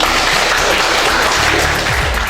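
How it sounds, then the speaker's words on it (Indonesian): Children in an Indonesian classroom clap together at their teacher's prompt, a dense, even burst of hand claps filling the room for a couple of seconds. "Ya, tepuk tangan."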